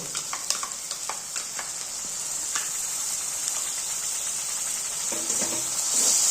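Small potatoes for Kashmiri aloo dum fry with sour curd in a pan, a loud continuous sizzle and hiss with spoon taps and stirring scrapes early on, growing steadier and slightly louder toward the end.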